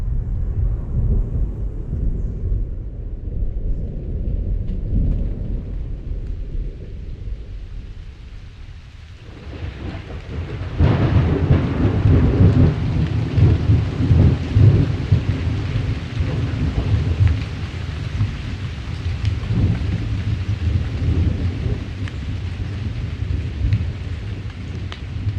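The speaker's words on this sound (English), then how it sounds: "a storm gives way to dawn over the pond." A thunderstorm over a wooded pond: rain hisses steadily while deep thunder rumbles on and swells into a loud, sustained roll midway, with no voices.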